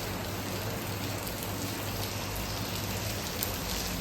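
Steady rain falling in Ranjangaon, a continuous even hiss of drops on surfaces with no pauses, moderately loud and heard alone without talk.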